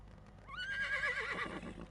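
A horse neighing sound effect used in a video outro: one clear, fairly close whinny that rises, holds with a wavering pitch, then breaks into shorter falling snorts, fading out at the end.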